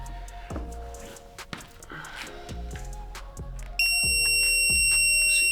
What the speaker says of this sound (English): if it beeps, then that means it's 25 around there